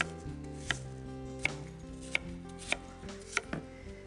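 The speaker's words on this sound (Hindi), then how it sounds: "And now let's chop the other apple." A knife chops an apple on a board in a home kitchen, about six crisp, evenly spaced cuts over a low background hum, with no voices.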